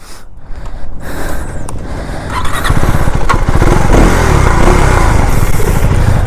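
A KTM Duke 390 Gen 3 motorcycle engine revs up loud and close, starting rough and uneven, then settling into a dense, steady drone as the bike rides on a street, with no voices over it.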